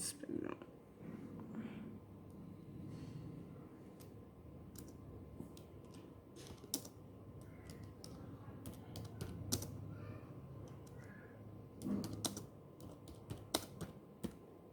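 Someone typing words on a computer keyboard in a word processor, scattered soft key taps and clicks in irregular bursts, faint and close, with a low background murmur.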